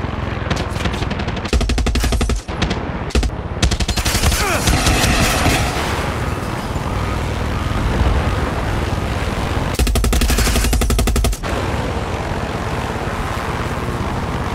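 Rapid automatic gunfire in Far Cry 6 aimed at a propeller aircraft, loud sustained bursts with short gaps under a constant droning engine, with no talk.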